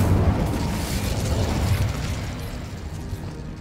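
A fire spell is cast in Hogwarts Legacy, a loud, sustained whooshing burst with a rumbling low end that holds steady for a few seconds before easing slightly.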